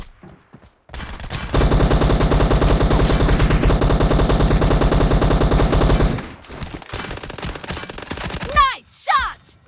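Sustained automatic rifle fire from the game PUBG rattles loudly for several seconds in a rapid steady stream, then breaks into scattered shots with a few chirping effects at the end.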